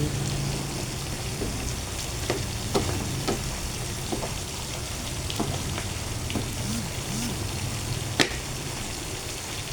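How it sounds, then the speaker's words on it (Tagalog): Mixed vegetables sautéing in a pan as a home-cooked dish, giving a steady, even sizzle throughout with occasional faint clicks and one sharp tap near the end, no talk. "Nagisa tayo ng gulay, ginisang gulay."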